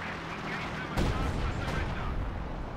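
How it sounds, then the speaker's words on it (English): An Su-85 tank fires on a Panzer IV in Company of Heroes 2, a single sharp cannon shot cracking out amid a low rumble of battlefield noise, with a second faint report shortly after. "Su-85 hitting the Panzer IV."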